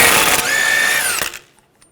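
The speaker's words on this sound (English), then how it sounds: "Remove the axle nut. Use a 32mm socket." Impact wrench or power tool spinning off a front axle nut with a 32mm socket on a 2013-2019 Ford Escape, a loud continuous whirring burst lasting over a second before cutting off abruptly, no talking.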